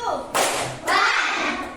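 Two sharp hand claps ring out in a group ice-breaking exercise, each a crisp broadband burst with a short decay, the second followed by a lingering wash of voices and room noise.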